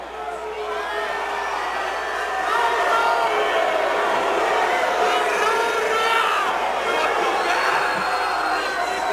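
Fight-night crowd at a cage event shouting and screaming fighters' names, a dense roar of many voices with whoops rising and swelling louder midway, sustained throughout.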